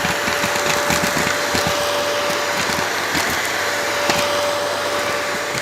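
A Bush handheld bagless stick vacuum with a crevice tool runs steadily and loud for the whole stretch, its motor whine holding a constant pitch while small grit and seeds rattle and click up through the nozzle.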